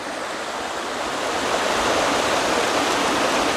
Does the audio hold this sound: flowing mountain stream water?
yes